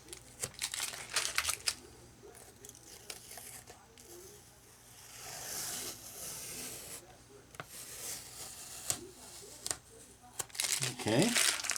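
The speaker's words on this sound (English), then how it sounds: "Nothing fancy here, just plain old yellow painter's tape." Plain yellow painter's tape crinkles and tears in bursts, with sharp rips and rubbing handling sounds up close, then a final louder tear and pull.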